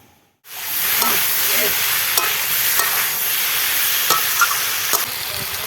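Vegetables and ground cumin, coriander and chilli are stirred in a hot frying pan, a loud steady sizzle with occasional scraping taps of the spoon against the pan.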